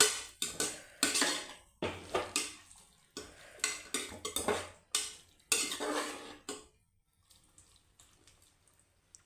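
A spoon scrapes and stirs overnight-soaked peas with chopped tomato in a pan for fenugreek leaf pulao, making a run of close, rhythmic clattering strokes that stop and leave faint rustles.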